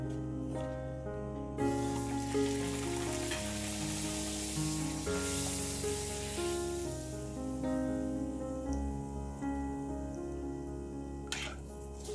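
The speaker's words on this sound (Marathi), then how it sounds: "आता आपण बाकीच्या सुद्धा तळून घेऊया" Puris deep-frying in hot oil for a garlic- and onion-free festive thali, a steady close sizzle over soft kitchen tones, with a brief spatter near the end.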